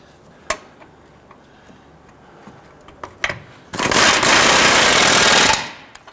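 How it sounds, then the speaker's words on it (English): Power tool, likely an impact wrench, tightening control arm bolts on a 2011-2017 Nissan Quest, one loud close burst of about two seconds after a few clanks of handling metal parts. "Let's go ahead and tighten down our rear bolt."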